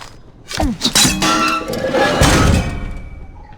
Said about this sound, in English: The bell was down.